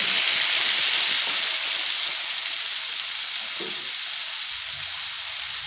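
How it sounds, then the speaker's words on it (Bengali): Ground masala paste sizzles loudly in hot oil, a dense, constant hiss close up that runs the whole time and eases slightly near the end, with no one speaking. "এবার এখানে দিয়ে দেব যে মশলা আমি পেস্ট করে নিয়েছি সেই মশলার পেস্ট।"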